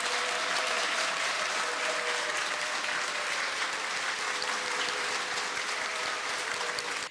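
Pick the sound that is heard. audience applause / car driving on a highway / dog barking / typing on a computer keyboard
audience applause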